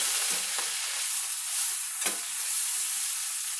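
Swiss chard sizzles loudly in a pan with balsamic vinegar, a dense continuous hiss with brief stirring scrapes, up close and without talk.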